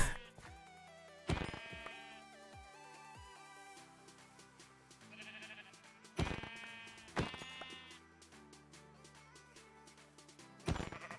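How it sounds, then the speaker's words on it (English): Sheep bleat repeatedly in a Minecraft modpack world, short clear calls spaced a few seconds apart, heard over soft layered game background music with no talking. "I need to just find two more sheep and then we should be good."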